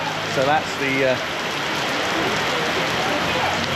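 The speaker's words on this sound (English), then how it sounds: "that noise you can hear in the background is the rain" Heavy rain pours down on a beach in Thailand, a dense, steady hiss that fills the whole clip while someone speaks briefly over it near the start.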